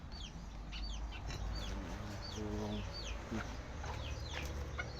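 Bantam chickens clucking and cheeping in a farmyard over a steady low background hum, with a brief spoken word partway through.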